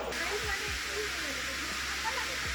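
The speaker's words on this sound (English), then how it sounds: "This is the Egyptian waterfall." Steady broadband rushing water from an indoor Egyptian-themed waterfall on the ground floor of a Dubai building, continuous and close, with faint crowd chatter and brief low thumps underneath.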